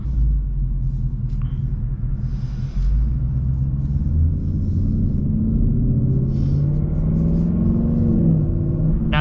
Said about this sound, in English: We'll let the car pass.